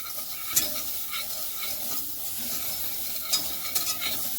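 Garlic and onion fry in a pan for homemade Jamaican shrimp pasta, a steady close sizzle with brief spoon-stirring scrapes and a few clinks and no talk.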